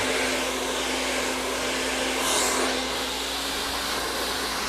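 A hair dryer blows curly hair dry, a loud constant airy roar with a steady tonal whine, close and uninterrupted, with a brief shift in airflow midway.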